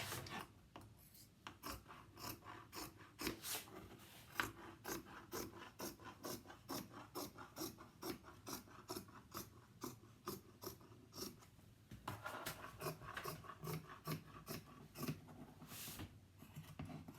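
Rapid repeated snips of scissors trimming upholstery fabric panels for a toss pillow, a steady rhythmic train of crisp cuts close by with a brief pause midway.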